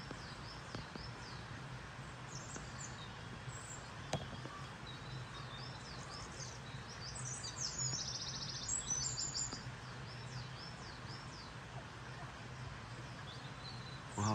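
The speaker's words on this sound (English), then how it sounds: "There's a lot more birds about now," Spring birds sing outdoors: faint, scattered chirps and short calls at a distance over a quiet background hum with light rustling.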